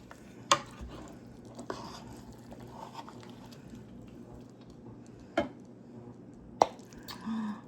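Plating up a cheesy, sauced crock pot dinner: a few sharp clinks of utensils on dishes, spaced apart, over a quiet, low kitchen background with no talking.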